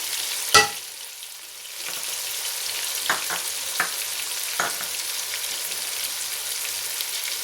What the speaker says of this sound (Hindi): टमाटर डाल दिए, अब भूनेंगे, साथ मसाले भी डालेंगे